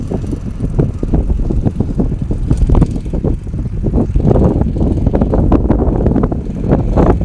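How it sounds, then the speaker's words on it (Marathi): Strong wind buffets the microphone in an open farm field in Devgad during ploughing, producing continuous low rumbling gusts and irregular thumps that stay loud for the whole stretch, with no speech. "जोरदार वारो आहे, त्यामुळे नीट असं स्पष्ट ऐका घेऊ"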